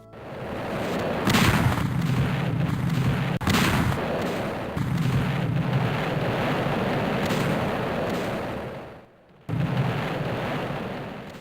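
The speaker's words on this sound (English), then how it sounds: "the continuous heavy artillery bombardment of the previous 7 days" Heavy artillery bombardment at the Battle of the Somme, a continuous roaring rumble of distant guns and booms with a sharp blast near four seconds and a brief drop to near silence before the pounding resumes.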